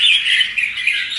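Caged songbirds offered for sale call in a continuous high, bright chatter, close and loud throughout.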